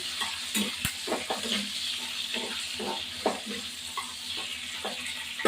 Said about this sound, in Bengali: এবার এটা হতে থাকুক, পেঁয়াজ ভাজাটা হতে থাকুক